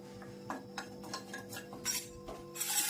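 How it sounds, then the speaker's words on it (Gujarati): Gram flour roasting in a pan, stirred with a metal spoon that scrapes and clinks against the pan in quick, irregular strokes, close and fairly quiet, with no voices. "લોટ શેકાઈ રહ્યો છે"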